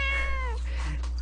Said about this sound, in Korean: 초롱이 11살이고요 고양이 나이로 11살이면은 거의 50대